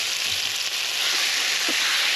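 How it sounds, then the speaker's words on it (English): Food sizzling in a pot over an outdoor fire on a jacked-up tire iron cooking setup, a steady, loud, close hiss of frying with no talking. "hear that sizzle"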